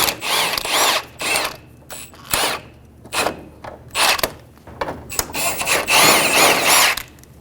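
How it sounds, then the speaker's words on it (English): A 17mm socket ratchet loosens the top shock bolt on a 2003-2008 Honda Pilot rear suspension, giving repeated bursts of close metallic clicking and rasping in uneven strokes with short pauses between them. "Using a 17mm socket, remove the top bolt off of the shock."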